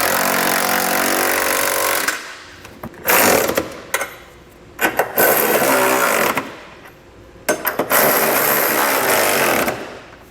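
Power tool driving bolts on an etrailer trailer hitch receiver with an 11/16 socket, loud bursts of whirring in several runs with short pauses between them.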